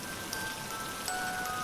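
Heavy rain falls in a steady, dense hiss of drops on surfaces, soft and continuous with no voices.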